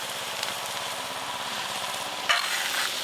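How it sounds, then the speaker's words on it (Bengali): Cabbage filling seasoned with chili powder and ginger paste is stirred in a hot pan, a continuous soft sizzle with a scraping spatula stroke near the end, close and without talk. "এবার এই বাঁধাকপিটাকে খুব ভালো করে নাড়তে হবে"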